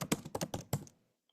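Fingers tap a computer keyboard in a quick cluster of five or so close, crisp keystrokes, then silence.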